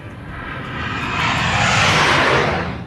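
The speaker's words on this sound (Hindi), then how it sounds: "इस फॉरवर्ड एयर बेस पर सबसे पहले हम आपको दिखाते हैं सुखोई लड़ाकू विमान की गर्जना।" A Sukhoi fighter jet roars at a forward air base, a loud broad rushing blast that swells to a peak and begins to fade as it passes, with no voices.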